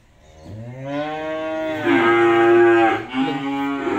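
A young F2 crossbred cow, still kept beside its mother, gives one long, loud, close moo that builds in strength, holds steady, then breaks off briefly before a final call.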